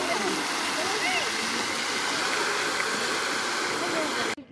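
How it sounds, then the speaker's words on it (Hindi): A large water fountain in a tulip garden splashes and rushes in a steady, loud, continuous wash that stays constant until it cuts off abruptly at the end. "इतना बड़ा पानी, इसको क्या बोलते हैं? फाउंटेन। पानी फाउंटेन बोलते हैं।"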